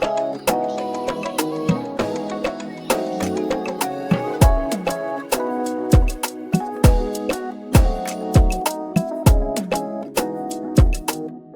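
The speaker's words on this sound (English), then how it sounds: "Now for that beat, I use 2 shaker loops, one for the verse and then one for the chorus, and they both sound like this." Afrobeats beat in FL Studio carrying a shaker loop alongside a bouncy drum groove and kicks, played steadily and fairly loud with no voice over it.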